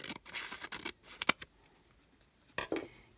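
Scissors snipping through paper while trimming an envelope pocket, a few close, crisp cuts in two brief clusters separated by a quiet gap, with no talking.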